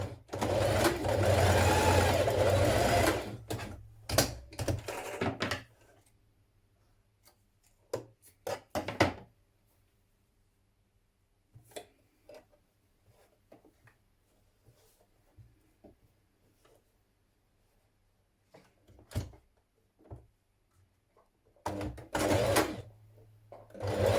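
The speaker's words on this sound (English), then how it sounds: "you're going to stitch these in place and then repeat on the other sleeve" A sewing machine stitches dress sleeves in place on a Style Arc Gertrude dress, running in a loud burst at the start, a few short runs, then a long quiet gap before whirring again near the end.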